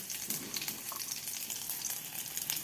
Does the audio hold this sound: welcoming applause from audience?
no